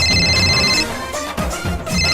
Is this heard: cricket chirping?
no